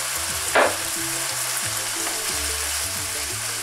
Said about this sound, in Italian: andiamo ad aggiungere i pomodori che ho tagliato